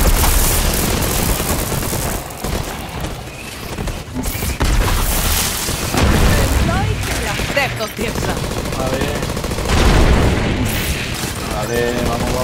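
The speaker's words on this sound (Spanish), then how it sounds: "A ver, el disparo." Rapid gunfire bursts from a weapon in Borderlands 3 gameplay, loud repeated volleys with short gaps between them, while someone talks over the shooting.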